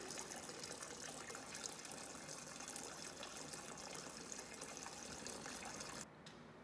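Diesel fuel drains from the tank of a 1958 John Deere 720 diesel tractor in a steady, faint gushing trickle that runs evenly for about six seconds before dropping slightly quieter, with no talking.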